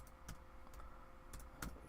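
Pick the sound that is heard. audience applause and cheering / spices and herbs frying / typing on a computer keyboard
typing on a computer keyboard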